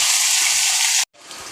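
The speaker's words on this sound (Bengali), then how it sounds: "চলো আলুটা ভেজে নিই ভালো করে" Potatoes fry in a pan with a bright, steady close sizzle that cuts off abruptly, then resumes more softly after a brief silence; no voices.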